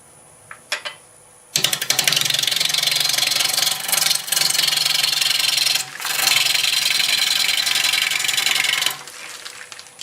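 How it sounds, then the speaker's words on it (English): A 5/8 bowl gouge with swept-back wings cuts madrone wood on a lathe, a loud, sustained rough scraping hiss with brief dips, starting after a few quiet taps and ending abruptly. "Using my 5/8 bowl gouge with the swept back wings on it."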